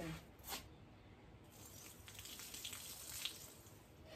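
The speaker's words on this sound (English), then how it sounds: "Pour that water in my head." Water poured over a young boy's head during a home haircut, a soft, steady splash that is faint and close, with no talking.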